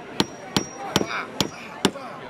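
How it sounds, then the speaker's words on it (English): Nails driven by hammer at a school fair's hammer-and-nail challenge. Five sharp, ringing metallic strikes land at a roughly even pace, close and loud over faint background murmur. "The construction management students were running a hammer and nail challenge"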